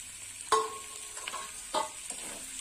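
Fried potatoes stirred in a pan for a vegetarian chorchori, a soft sizzle with a few distinct clinks and scrapes of the spoon spaced out, near and quiet.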